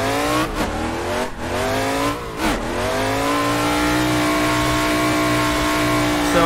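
A Corvette drift car in the Assetto Corsa racing sim screams at high revs, its loud engine note dipping and climbing sharply a few times before holding a sustained wail.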